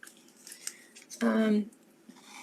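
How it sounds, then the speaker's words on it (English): A pair of scissors makes one short, crisp snip close by, trimming off a tiny piece, with quiet handling noise before and after. "This one's a smidge big, so I am going to trim these just a little tiny bit."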